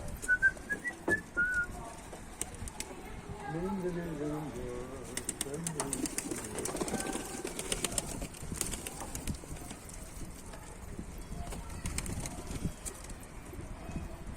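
Pigeons coo and whistle in a loft, with soft rolling coos and scattered whistles over a busy background of rustling and clattering, while a person talks in the middle of the scene.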